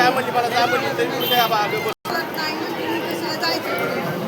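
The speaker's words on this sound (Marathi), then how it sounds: "बघा किती अशी गर्दी" Packed crowd at the Tuljapur temple in hot sun, a steady babble of many nearby voices that drops out for a split second midway before resuming.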